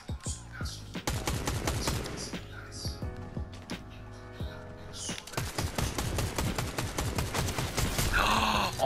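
Gunfire in a Fortnite Chapter 5 match, including a sniper rifle: loud, rapid bursts of sharp repeated shots that run almost continuously over busy in-game sound.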